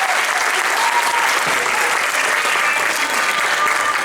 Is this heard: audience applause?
yes